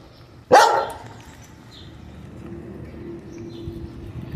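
A single loud, close dog bark at the start, followed by quieter low background noise and faint rustling.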